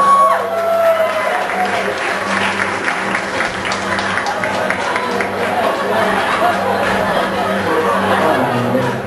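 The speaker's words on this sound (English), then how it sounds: "Let's give them a round of applause." A crowd gives a loud, sustained round of applause welcoming the hosts of an evening show, dense clapping mixed with chatter and cheering for the full stretch.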